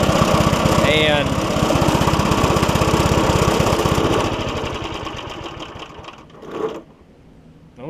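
An old top-pull Briggs & Stratton engine on a Craftsman push mower idles loudly and close with a steady, fast buzzing chug, then drops quieter and fades out near the end.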